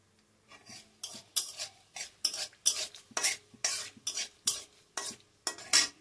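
A spoon or spatula stirs chili frying in a pan for a coconut beetroot fry, scraping in about a dozen quick rhythmic strokes with soft sizzling between them, close and fairly quiet, with no talking.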